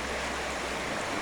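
Bertsch Creek running steadily through a 1991 Conrail culvert set on 1840s Lehigh and Susquehanna stonework in Walnutport, Pennsylvania, a constant broadband rush of flowing water, close and even, with no voices.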